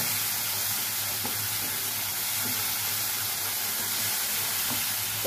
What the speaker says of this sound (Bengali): এই আমটাকে আমি অল্প একটু মশলা দিয়ে ভুনা করে নেব